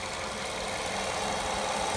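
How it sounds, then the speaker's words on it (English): A quiet car engine idles with the hood open, giving a steady, even, low hum that holds constant throughout with no speech. "it's a very, very quiet engine"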